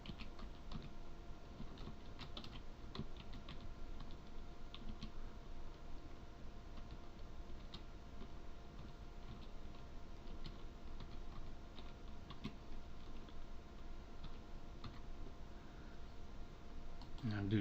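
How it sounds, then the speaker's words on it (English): Steady typing on a computer keyboard as student data goes into a C# program, a continuous fast patter of light key clicks at close range with no pauses. "if we compile and run this and type in some student data, say Travis McGee,"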